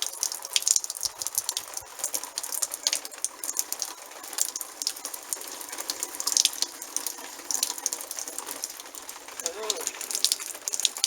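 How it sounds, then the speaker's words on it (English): Water poured from a watering can onto hats to test whether they are waterproof, simulating rain: a steady, close patter of splashing and trickling water with occasional rattles running throughout. "And I'm going to pour water on them to see if they're actually waterproof."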